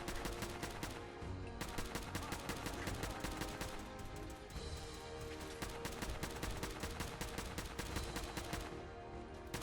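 Rapid automatic gunfire from the player's weapon in Fallout 4, a dense steady stream of shots with brief pauses, loud and close with no talk.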